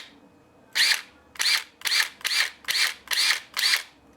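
A Snap-on CT761 3/8-inch cordless impact gun motor spins up in seven short, evenly spaced bursts, each a loud, whirring rev with brief quiet gaps between, and no talking.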